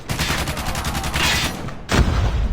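Rapid automatic gunfire in Call of Duty Mobile, a loud close burst of fast repeated shots lasting over a second, then a heavy boom-like blast near the end.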